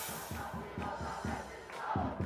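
A crowd of protesting students on a university campus, heard as rhythmic chanting in repeated bursts, moderately distant and fairly quiet.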